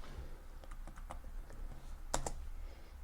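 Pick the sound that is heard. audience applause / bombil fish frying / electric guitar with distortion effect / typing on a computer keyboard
typing on a computer keyboard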